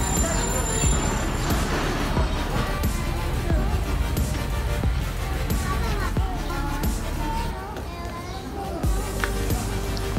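Train arriving at the platform of Havelian railway station, its rumble, wheel squeals and clanks loud and close throughout, with people talking on the platform.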